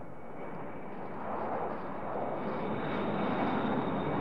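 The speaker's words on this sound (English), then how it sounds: "the roar of the engines makes it impossible to talk without an intercom" Passenger aircraft engines roar inside the cabin of a droop-nosed airliner with canards, a steady, dense, broadband rumble that swells slightly and continues alone with no talk.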